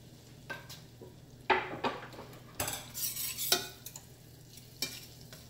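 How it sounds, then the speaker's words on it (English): Chopped garlic being stirred and sautéed in a pan, a soft sizzle under irregular scrapes and knocks of a utensil against the pan, with no talk. "I'm just going to keep stirring this, saute this."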